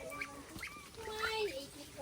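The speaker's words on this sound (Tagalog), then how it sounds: "Pato, itik." Ducks quack in a steady, close chorus of short nasal honking calls that overlap throughout, over a busy background of outdoor noise and voices.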